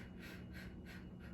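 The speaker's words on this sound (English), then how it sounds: "Breathe in, breathe out." Slow, soft breathing during a guided movement and breathing exercise: several gentle airy breaths in a steady rhythm, faint and close, with no talking over them.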